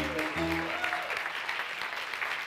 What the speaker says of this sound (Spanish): Denle un aplauso a Dios en el nombre de Jesús